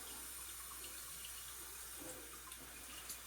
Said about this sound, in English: You'll see the water start to come out, and it'll be flushing the filter from the inside out